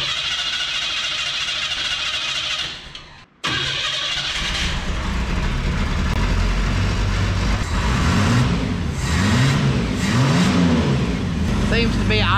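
Carbureted Chevrolet S10 truck engine after carburetor work: a continuous close engine drone cuts out briefly, then restarts and settles into a loud, rough idle with some revving, with no talking.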